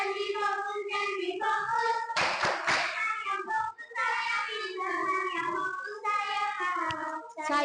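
Third-grade schoolchildren in a primary school classroom chant together in sing-song unison while clapping a rhythmic pattern, with a burst of fast claps in the middle.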